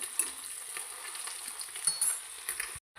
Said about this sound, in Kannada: ಇಲ್ಲಿ ಮೀನು ಫ್ರೈ ಆಗುವಾಗ